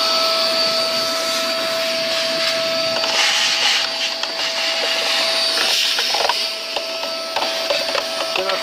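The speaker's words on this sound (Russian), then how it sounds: "А, ну пылесос." A vacuum cleaner runs steadily and loudly throughout, its motor whine constant with a faint rattle of debris being sucked up, cleaning the air filter housing of an Opel Astra G car.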